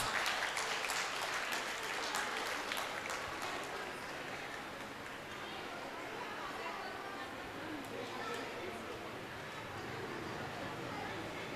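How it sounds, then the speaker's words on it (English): Parents applaud at a kindergarten UKG graduation ceremony, a broad, sustained wash of clapping from a seated audience that is strongest at the start and settles into a steady patter, with faint chatter underneath. "Come on parents, please give them a round of applause."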